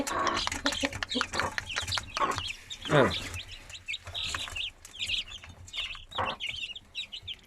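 Hens cluck close by while chicks peep in high, rapid chirps; a person says a single short word.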